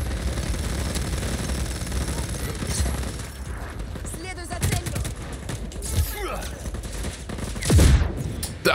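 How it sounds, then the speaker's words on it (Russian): A barrel blows up during chaotic gunfire in Just Cause 4 on Xbox Series S: dense rattling shots and mechanical clatter run throughout, with a heavier, louder burst near the end. "Видите, зацепил бочку, и она взорвалась."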